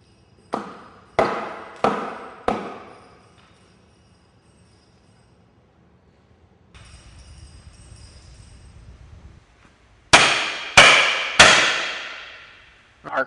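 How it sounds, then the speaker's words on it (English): A hammer strikes wooden cribbing wedges under a vehicle during an extrication drill, three sharp ringing taps, then a stretch of low steady noise, then three more loud close blows, with no talk. "we're going to come in and tap in and make sure our wedges are secure"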